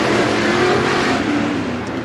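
Race cars roar off a green flag start at Bakersfield Speedway, a dense, loud, sustained engine drone from a pack of cars accelerating together, steady throughout and fading slightly at the end.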